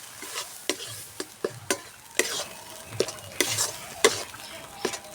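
A spoon stirs banana flower curry in a pan with repeated sharp scraping clacks over a soft, steady sizzle, close and fairly quiet.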